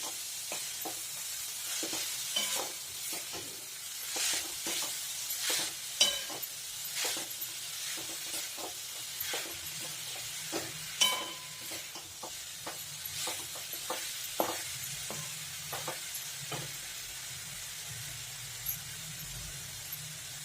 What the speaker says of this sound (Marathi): आणि हा गूळ विरघळेपर्यंत आपल्याला परतवायचा आहे